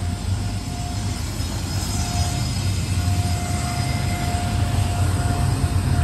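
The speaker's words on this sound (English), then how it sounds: "Domestic stack train so far." A heavy, steady low rumble of a long loaded BNSF domestic double-stack freight train rolling past nearby at Mormon Rocks in Cajon Pass, with faint high whines over a constant drone.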